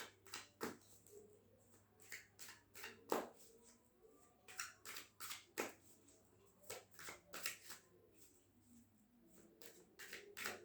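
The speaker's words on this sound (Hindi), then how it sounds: "Let's pull some card for guidance." Tarot cards are shuffled by hand for a reading, close and quiet, with repeated soft riffles and sharp card taps recurring irregularly over a low steady hum.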